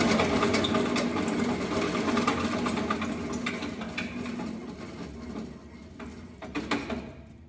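An oak-cutting bandsaw with a faulty wheel runs loudly and unevenly, a dense mechanical whir with rattling, knocking pulses that fades slightly toward the end.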